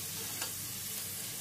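Potatoes fry in hot oil over high heat, giving a faint, steady, even hiss with one brief slightly brighter crackle and no voices.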